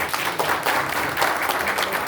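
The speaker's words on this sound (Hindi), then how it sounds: "बहुत बढ़िया, एक बार जोरदार ताली बजाइए।" An indoor audience at a training session applauds, with dense, steady clapping throughout that stays fairly loud with small swells.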